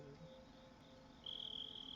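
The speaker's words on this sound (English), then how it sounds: "There's the crickets." Crickets chirp in a steady, high, shrill trill that grows louder toward the end, heard alone over a faint low hum.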